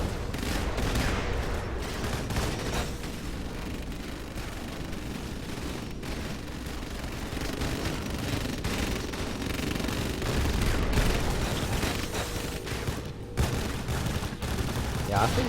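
Continuous artillery and gunfire rumble through a battle in the strategy game Rise of the Reds, dense overlapping blasts and shots held at a steady moderate level throughout.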